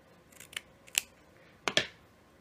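Scissors snip through glitzy ribbon in a few quick, close cuts: a light snip, another, then a sharper double snip near the end, with no talking.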